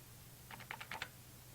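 About five quick, soft taps as keys are pressed on a financial calculator, close but faint over a low room hum.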